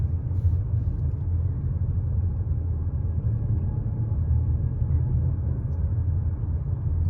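Car traffic crossing the Golden Gate Bridge in San Francisco in fog, heard from inside a moving vehicle as a steady low road rumble that stays constant throughout, with no voices.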